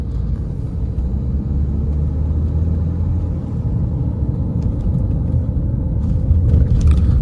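A used 2014 BMW 520d diesel saloon in Eco Pro mode produces a steady, loud low engine and road rumble from inside the cabin while driving, with no talking.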